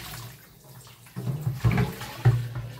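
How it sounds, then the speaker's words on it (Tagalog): Running water in a kitchen sink while washing up: a quiet start, then a steady rush of water about halfway through, with a couple of louder splashes and clatters close by. "Hugasan ko na ito."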